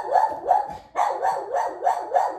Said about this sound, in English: There's a lady with two cute little dachshunds that walks her dogs every morning right past my house, and Aria freaks out